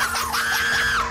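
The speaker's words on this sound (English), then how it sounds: "That's screaming!" A single sustained high-pitched scream, loud and continuous for about a second, in a reaction setting involving YouTubers and Arsenal footballers.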